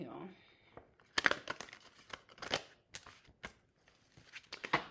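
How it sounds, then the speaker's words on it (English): A deck of tarot cards is shuffled by hand in a series of quick, crisp riffles and slaps, close and fairly loud, in uneven bursts with no talking over them. "let's shuffle these cards up really,"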